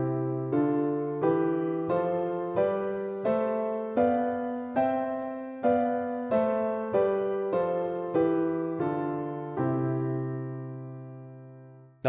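Piano played with chords in one hand and a stepwise scale in the other, each note struck cleanly and decaying in an even rhythm, solo and close, ending on a held chord with no voices.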